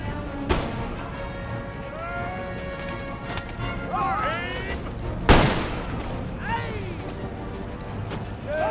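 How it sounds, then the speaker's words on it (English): Line infantry firing volleys by rank in the Empire: Total War video game, with scattered musket shots and one loud sharp crack among battle noise and distant shouts, under speech. "Nice to see the fire by rank working."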